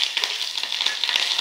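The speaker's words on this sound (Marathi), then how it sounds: "फोडणी तडतडली आणि काय लसूण आणि कढीपत्तो" Mustard seeds and cumin with green chilli crackling in hot oil for a Konkan jackfruit curry tempering, a dense, close run of rapid sharp pops and sizzle with no talk.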